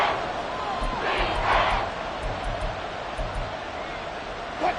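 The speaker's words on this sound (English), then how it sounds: "The Arrowhead crowd in full roar." A large football crowd at Arrowhead Stadium roars steadily, a loud sustained wash of cheering with a commentator's voice faintly over it.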